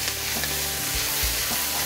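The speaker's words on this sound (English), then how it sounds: "Just stir that up a little bit." Chopped bell peppers and celery sizzle steadily in a hot pan for gumbo, a loud close frying hiss broken by a few scraping stirs of a utensil.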